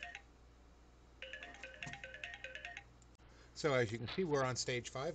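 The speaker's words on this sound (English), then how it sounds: "I've got a phone call." Phone ringing with an incoming call, a repeating electronic ringtone melody in short bursts at moderate level, with someone talking over the end.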